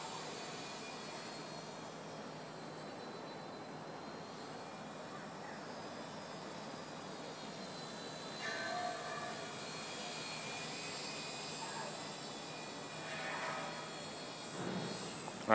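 A Genius CP collective-pitch RC helicopter flies and settles to a landing, its faint steady whine and rotor hiss rising slightly near the end, heard at a distance.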